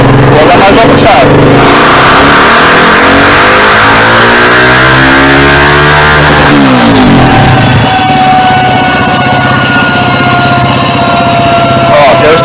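A car engine fitted with an Athlon M250 module revs hard in a datalogger test pull. Its loud, close roar climbs steadily in pitch for several seconds, then drops back and holds at a high idle.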